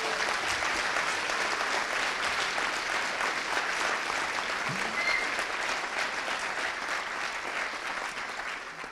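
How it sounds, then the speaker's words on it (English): Steady, even applause from a conference audience at the closing of DevConf.cz for the volunteers, continuous and moderately distant for about nine seconds, easing slightly at the end. "Another round of applause, because DevConf wouldn't happen with the great work of all the volunteers here"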